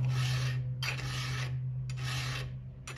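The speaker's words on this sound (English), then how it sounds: "I'll kind of rotate the file in my hand so I'm not wearing out the same spot or whatever." A hand file rasps across the teeth of a chainsaw chain clamped in a vise, three long, even strokes with short gaps, close and clear over a steady low hum.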